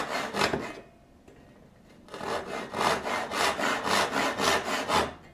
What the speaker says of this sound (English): If you're just making a cut, and you're planning on maybe chiseling to the baseline, you can just cut like a regular old cross cut.